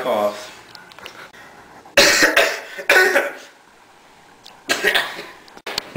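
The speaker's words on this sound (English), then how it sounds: "and dry coughs." Three or four harsh, dry coughs burst out close and loud, separated by short quiet gaps.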